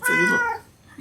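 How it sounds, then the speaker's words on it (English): A pet cat meows twice close by, the first call long and bright, the second short at the end, as someone speaks briefly around it during a kitten birth. "That's my cat meowing."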